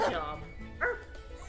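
A dog barks in the Wargroove video game, with a short yip at the start and another brief bark a moment later, both close and clear over background game sounds.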